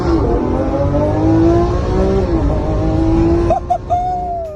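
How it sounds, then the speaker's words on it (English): A Lamborghini Aventador driving and accelerating, a loud, close engine drone rising steadily in pitch, then shifting up with a short break before climbing again. "a Lamborghini doesn't have autopilot, but it accelerates to 60 miles per hour in less than 3 seconds"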